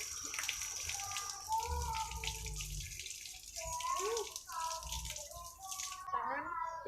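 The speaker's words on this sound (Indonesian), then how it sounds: "kita akan membilas tangan hingga bersih" Tap water runs steadily while hands are rinsed clean during a hand hygiene and aseptic technique procedure, broken briefly by splashes, with someone speaking in Indonesian over the flow.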